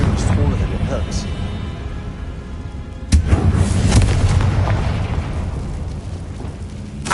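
A Confringo explosive spell blast in Hogwarts Legacy on PS5: a sharp, loud burst hits midway and rolls into a rumbling, crackling boom over continuous game noise and low drone, with a voice speaking around it.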